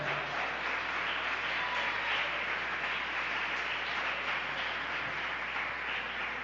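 A church congregation applauding, a dense, steady wash of clapping from many hands that holds at an even level throughout, with no voices above it.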